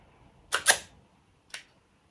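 A camera shutter in need of lubrication fires slowly: two quick mechanical clicks close together, then a single click a moment later, crisp and close in a quiet room.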